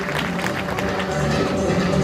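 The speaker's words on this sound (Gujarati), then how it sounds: "એક વખત આપણે જોરદાર તાળીઓ પાડી દઈએ" An audience claps together at a Vaishnav community temple celebration during a Navratri-style event, a dense, continuous wash of applause with crowd murmur throughout.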